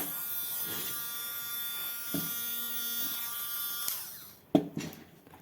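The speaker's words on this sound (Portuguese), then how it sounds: "liga a furadeira" A small electric drill buzzes steadily at close range, its motor whirring continuously, then stops with a few clunks and clicks near the end.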